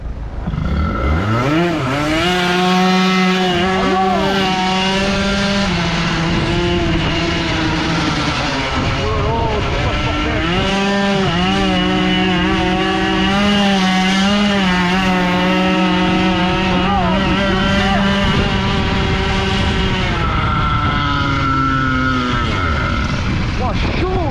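A Peugeot 103 moped with a Stage6 MK2 air-cooled engine revs hard and close with the throttle stuck, its buzzing two-stroke note climbing and dipping in repeated surges at a steady high loudness for the whole stretch.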